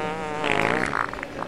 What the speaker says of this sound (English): She just farted.